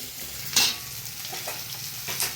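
Chopped onion and tomato fry together in about three teaspoons of oil, a steady close sizzle punctuated by a few spatula stirs and scrapes in the pan.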